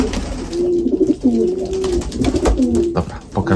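Pigeons in a loft during molting season coo close by, with repeated low rolling calls overlapping over a few seconds and no talking.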